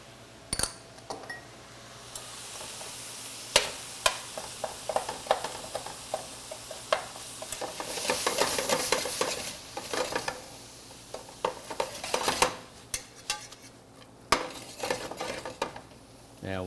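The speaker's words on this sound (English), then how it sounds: "And we'll stir that through." Salt, pepper, fresh ginger and brown sugar stirred through in a pan, with repeated scraping and clinks of a utensil against the pan over a soft sizzle, building to busier stirring in the middle.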